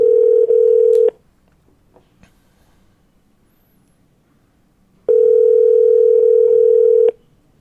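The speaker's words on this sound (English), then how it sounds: "It's ringing, guys." An outgoing phone call rings on the line: two loud, steady ringback tones, each lasting about one to two seconds, separated by a long silent gap.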